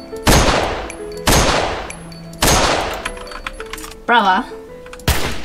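Sniper rifle shots in the Fortnite video game, four loud sharp cracks spaced about a second apart with a short spoken word between them.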